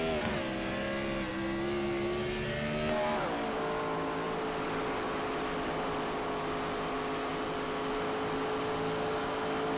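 Race car engine from a stock car racing video game at Rockingham revs hard on a restart, a loud rising whine that shifts gear around the third second, then holds a steady high drone.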